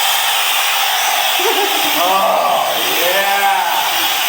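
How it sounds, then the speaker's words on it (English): A blow dryer blows air in a loud, steady, close rush throughout, while a voice speaks briefly over it. "This is what I call the amazing blow dryer."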